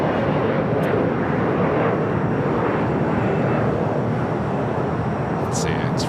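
Airplane engine roar near a LAX runway, a loud, continuous broadband rumble that holds steady across the whole span, close and dominating, with a brief high whine near the end.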